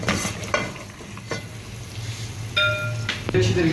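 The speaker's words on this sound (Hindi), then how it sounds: "अब इसमें हम चूरा की हुई प्याज डालेंगे। उसके बाद इसको अच्छे तरीके से मिक्स करेंगे दोबारा से।" Crushed onions frying in oil for beef nihari, a continuous close sizzle with scraping spoon strokes and metallic clinks as they are stirred around the pot.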